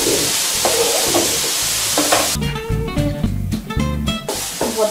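Loud, steady sizzling of vegetables frying in a pan, with occasional scraping and stirring clatter mixed into the hiss.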